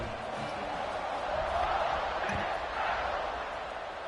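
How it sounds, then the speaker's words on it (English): Stadium crowd noise from the NCAA 26 college football video game, Michigan vs Ole Miss, a steady loud roar and murmur swelling slightly mid-clip, continuous and without commentary over it. "this crowd is buzzing after that last score"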